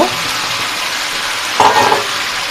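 Pre-fried potatoes tumbled into a pan of browned home-style chicken curry, with a steady close sizzle and a brief clatter of stirring near the end.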